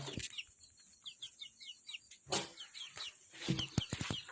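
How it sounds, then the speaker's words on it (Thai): Chickens cluck and squabble close by in a farm coop, a run of quick, repeated clucks with sharp squawks and brief wing flaps, fairly quiet overall. "ไก่ก็ ทะเลาะกันนะฮะ"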